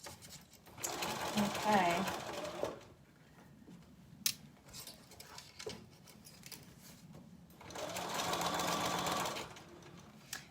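A sewing machine runs a long tacking stitch around a garment hemline in two sustained bursts, close and fairly loud, with a quieter pause between them where a voice speaks briefly.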